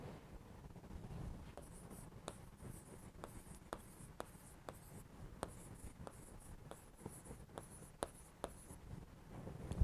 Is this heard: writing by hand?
yes